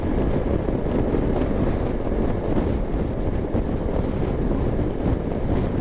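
Wind roaring steadily over a motorbike microphone while riding at around 60 on a road beside rice fields, a constant broadband buffeting rumble that masks everything else.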